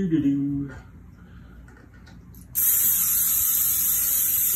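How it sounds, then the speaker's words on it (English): A voice speaks briefly, then after a quiet pause a continuous aerosol cooking spray hisses loudly and steadily into a 9x13 baking pan for about two seconds. "So let's spray. I got a 9x13 pan."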